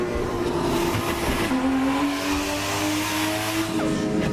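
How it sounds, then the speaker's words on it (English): In the Assetto Corsa game, a loud 1000HP car engine revs in a steady, high drone, its pitch climbing through a gear change, with a hint of tire squeal near the end. "Take a listen to this car."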